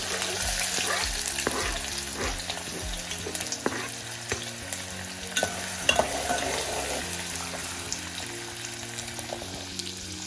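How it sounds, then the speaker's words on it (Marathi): Two to three spoonfuls of hot oil sizzle steadily as finely chopped onion sautés in the pan, with a continuous frying hiss and occasional scraping clicks of a stirring spoon, close and moderately loud, no talking. "हा कांदा आपल्याला छान पिंकिश ब्राऊन होईपर्यंत परतून घ्यायचा"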